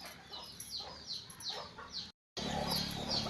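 Desi country hens cluck in a busy, overlapping chorus as they drink water mixed with jaggery and turmeric. Close, steady clucks repeat throughout, with a brief gap of silence near the end.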